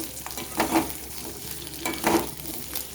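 Capsicum frying in a pan sizzles steadily at close range while a spoon stirs it, giving two distinct scraping pushes about a second and a half apart.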